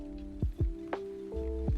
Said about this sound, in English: Light rain raises the humidity